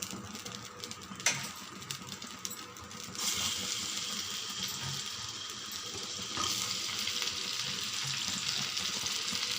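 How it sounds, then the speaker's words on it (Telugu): Tomatoes frying in hot oil in a pan, a steady sizzle that swells louder partway through as the pieces hit the oil, continuing evenly without talk. "ఇప్పుడు కొంచెం ఆయిల్ వేసానండి. ఇప్పుడు టమోటాలు వేయించుకుందాము."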